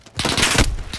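A dense burst of rapid gunfire in Modern Warfare's Cyber Attack mode, loud and close, filling the whole short moment with overlapping shots.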